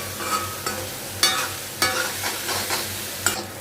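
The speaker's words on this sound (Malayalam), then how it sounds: "ആ വെളിച്ചെണ്ണ എല്ലാം ഒന്ന് തേങ്ങയിലൊന്ന് പിടിക്കുന്നതിനും വരെ ഇളക്കി കൊടുക്കാം" Grated coconut being stirred in coconut oil in a pan, a close spoon-scraping sound that recurs roughly every half second over a soft, steady frying sizzle, with nobody talking.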